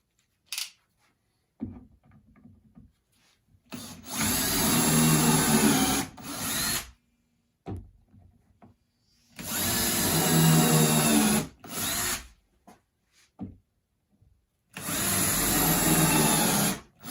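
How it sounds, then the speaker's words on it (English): A power drill pre-drilling holes into wood for a table saw sled, three long whining bursts of a few seconds each separated by pauses with small handling clicks, close and loud. "I'm going to pre-drill some holes in here."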